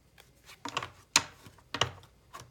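Tarot cards are handled and shuffled during a card reading, giving a few sharp, crisp snaps and taps at irregular intervals. The sounds are close but quiet, with near silence between them.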